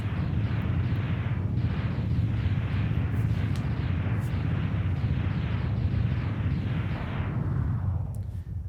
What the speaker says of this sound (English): I like the explosion effect.